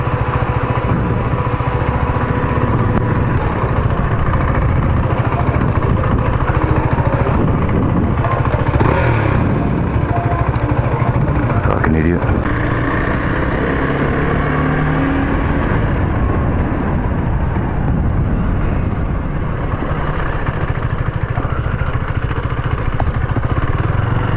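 A motorcycle engine runs loud and close for the whole stretch in Melbourne traffic, a steady rumbling drone with slight shifts in pitch and no talking.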